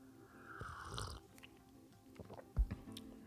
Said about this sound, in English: Could you guys hear me slurping that?